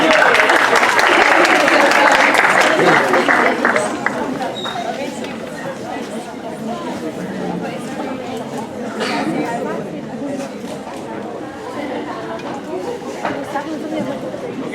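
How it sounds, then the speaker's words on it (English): A keynote audience claps loudly for several seconds, then the applause fades into a murmur of crowd chatter with voices talking. "Can we please have another huge round of applause for yourself?"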